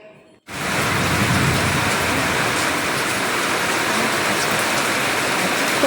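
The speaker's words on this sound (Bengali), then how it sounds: "এত পরিমাণ বৃষ্টি হচ্ছে" Heavy rain pouring onto a rooftop garden with potted plants and soil, starting abruptly after a brief quiet moment, then a dense, loud, continuous hiss and patter that never lets up.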